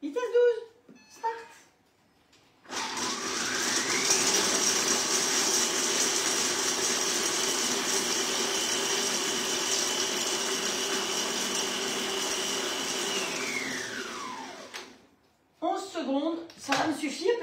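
An All Cook kitchen robot runs at speed 12 chopping walnuts, a loud steady whirring motor that spins up, holds for about twelve seconds and then winds down, with a person talking briefly before and after.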